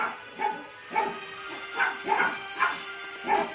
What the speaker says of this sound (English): Oh my god, the dogs are barking again.